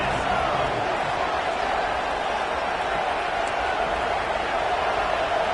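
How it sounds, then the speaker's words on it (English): Dense, steady roar of a large stadium crowd at a Cal versus Virginia college football game, loud and continuous without lulls, the noise building as the home fans rattle the offense into a false start. "And with this place rocking, the crowd forces a false start."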